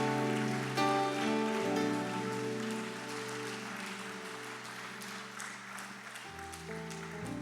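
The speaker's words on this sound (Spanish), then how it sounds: "dale un aplauso a nuestro Señor" Church congregation applauding during a worship service, a broad steady wash of clapping under sustained organ or keyboard chords.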